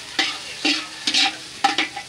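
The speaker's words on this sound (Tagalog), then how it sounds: "Bawang at sibuyas." Garlic and onion frying in a pan, bright sizzling broken by four or five sharp scraping stirs at a steady pace, close and loud with no voices.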